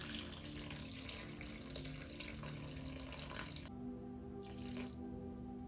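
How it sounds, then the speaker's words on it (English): Warm filtered water runs steadily from a tap for a sourdough dough, a continuous close splashing stream that shifts pitch near the end as the container fills, with no talking. "So 700 grams of warm filtered water."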